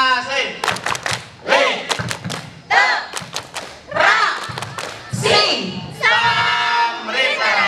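Junior high school students at a reading event in Leuwimunding shout a rhythmic literacy chant together, punctuated by loud, synchronized group claps and thumps in bursts between the chanted phrases.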